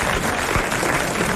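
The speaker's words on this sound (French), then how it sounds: "Nous applaudissons Madame Tolson de Calais." A 1991 French TV game show studio audience applauds a winning contestant, a dense, continuous wash of clapping throughout, loud and close.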